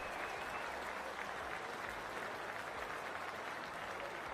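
A large crowd at a women's T20 cricket match in the Cricket 24 video game applauds steadily, a dense, even wash of clapping that lasts several seconds with no clear voices on top.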